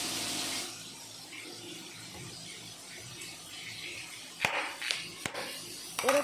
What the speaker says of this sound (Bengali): আলু কেটে আমি গরম জল দিয়ে ভালো করে চটকে ধুয়ে নেব।